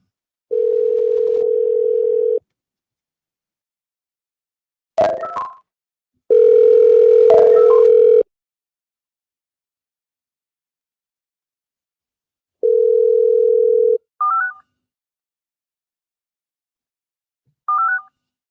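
Telephone ringing tone on an outgoing call: a steady electronic tone plays in long bursts of about two seconds separated by silences, with a few short beeps and clicks in between and no talk.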